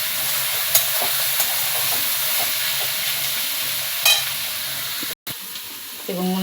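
Vegetables for Bengali-style chowmein stir-fry with salt in a hot pan, a steady broad sizzle with occasional scraping clinks of the spatula, close and fairly loud, briefly cut off near the end.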